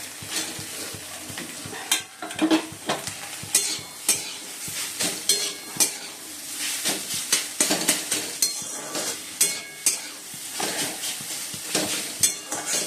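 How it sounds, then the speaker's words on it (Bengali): Chowmein tossed with fried potatoes in a pan, with busy near stirring and scraping strokes, frequent metal clinks of the utensil against the pan, and a sizzle running underneath. "এবার আলু ভাজাগুলো দিয়ে দিচ্ছি"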